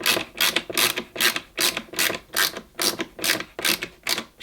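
A screwdriver tightens screws into the plastic body of a Hoover Enigma vacuum cleaner, making about ten loud, close, evenly spaced ratcheting squeaks in a steady rhythm, with no voices.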